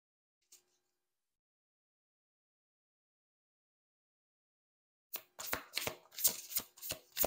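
Tarot cards are riffled and shuffled, then laid out, close and fairly quiet; a tiny tap sounds early, then a long silence gives way to a burst of crisp rapid card flutters and slaps.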